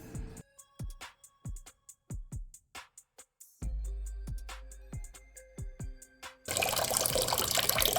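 Water from a kitchen tap splashes in a sink for soaking cut potatoes, with a series of distinct drips and knocks before a loud continuous stream pours in at the end.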